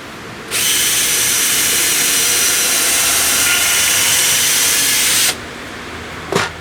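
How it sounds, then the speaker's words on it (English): Power drill driving screws into the timber of a raised bed planter, one sustained loud whirring burst of about five seconds close by, then a brief sharp knock after it stops. "let's get the first hole filled and get this all screwed together"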